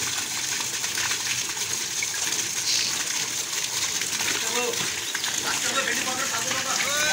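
Sugarcane juice gushes steadily from a crushing machine into a tank during natural jaggery making, a continuous loud watery splashing and sloshing that fills the whole stretch with no pause.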